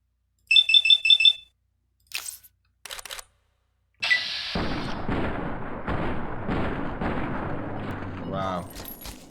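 Gunfire in the video game Fallout: New Vegas: a quick series of bright electronic beeps, then a couple of short sharp shot bursts, then a sustained loud crackling wash of noise.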